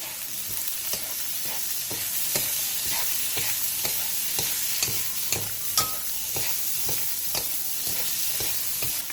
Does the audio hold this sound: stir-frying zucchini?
yes